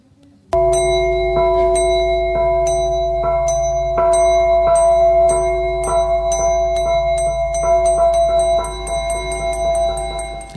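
A gong is struck once, then rings on in a long, loud, sustained shimmer of overtones, with further bright struck-metal pulses repeating in a steady, quickening pattern over the drone.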